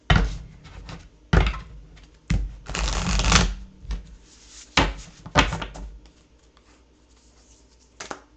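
Sufi Wisdom Oracle cards shuffled by hand, heard as several separate bursts of riffling and slapping with a longer run of shuffling in the middle and quieter pauses between.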